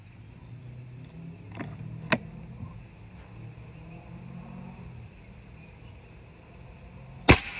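A quiet outdoor stretch broken by a faint crack from an FX Maverick air rifle and, near the end, a sharp loud snap of the pellet striking a target.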